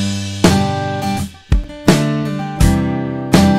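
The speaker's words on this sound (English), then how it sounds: "I've used this little beat between the kick and the snare here" A programmed drum beat intro alternates kick and snare hits in a steady, sparse rhythm, with ringing tones sustaining between the strikes. Each hit lands sharply and close, with no talking.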